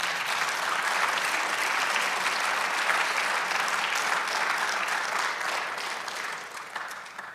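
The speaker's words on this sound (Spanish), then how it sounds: "demos un aplauso al Señor." Church congregation applauding steadily, a dense wash of many hands clapping at even loudness that tapers slightly toward the end, with no speech over it.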